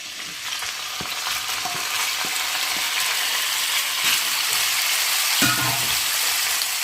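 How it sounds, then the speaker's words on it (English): Pork sizzles loudly as it is stir fried in olive oil in a pan, a steady close hiss broken by occasional clinks and scrapes of stirring. "And I'm going to stir fry this for about 5 minutes."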